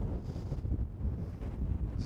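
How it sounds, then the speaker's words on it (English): Wind buffeting a microphone on a golf course in Dunfanaghy, Ireland, in a low, rumbling roar that gusts and swells unevenly, with no other clear sounds. "It's a weird one, it's windy, but the wind is warm"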